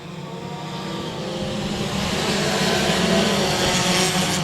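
Race cars roar on a speedway oval at Boothill Speedway during a restart, a steady loud engine drone building slightly in intensity as the field accelerates, with no talk over it.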